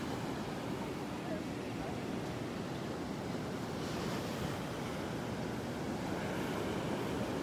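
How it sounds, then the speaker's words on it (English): Good-sized ocean waves break on the beach at Delnor-Wiggins on a morning walk, a steady, loud, continuous wash of surf with some wind rumble throughout and no pauses. "There are some good sized waves out there,"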